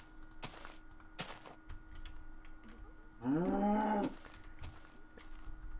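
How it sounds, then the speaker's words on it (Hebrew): Old-style cow moo from the Minecraft video game, a single drawn-out call of just under a second, loud and alone over faint keyboard clicks and ticks. "אוי, זה צליל הישן של הפרה."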